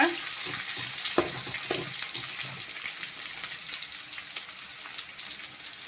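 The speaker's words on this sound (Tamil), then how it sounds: "வெங்காயம் நல்லா வதக்கி விட்டுக்கோங்க" Chopped onions sautéing in a pan for a Tamil lentil and greens dish, a steady close sizzle broken by a few stirring scrapes, with no talk over it.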